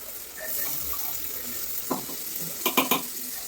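Ginger, garlic and green chilli paste frying with onions already browned in a pan: a low, steady sizzle, then several sharp stirring scrapes close by near the end.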